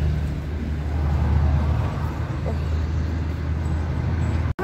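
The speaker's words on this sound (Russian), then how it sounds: "Маршрутки ходят туда-сюда." Minibuses and other traffic passing on a street, a continuous low road rumble and engine drone heard from the roadside, steady throughout with a brief dropout at the end.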